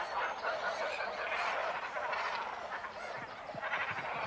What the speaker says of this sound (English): There is a cormorant colony on an island in the nearby forest lake.